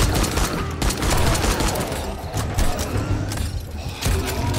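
Rapid gunfire from the video game 7 Days to Die, dense bursts of automatic shots fired in quick succession, loud and close, running continuously with no talk over it.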